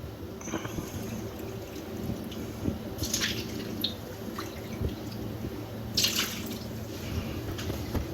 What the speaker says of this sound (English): we can just wash this out with the water